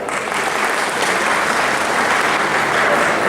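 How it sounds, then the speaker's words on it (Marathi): A seated audience at a rural village competition award event claps together, dense steady applause held at full strength for about three seconds without cheering. "आयोजकांसाठी एकदा टाळ्या वाटत"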